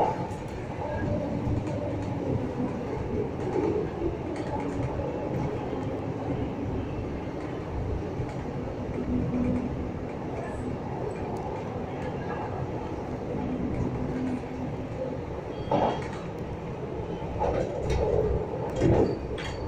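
An RER line A commuter train running toward Boissy-Saint-Léger, heard from inside as a steady rumble and rattle of the carriages, with a few louder clunks near the end.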